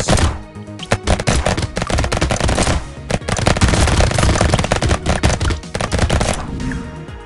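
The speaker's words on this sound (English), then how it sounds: "This is a game where you shoot at aliens." Shooting at aliens in the video game Brotato produces dense, loud, rapid-fire bursts of gunshots and impact thuds that run almost continuously, with brief gaps between volleys.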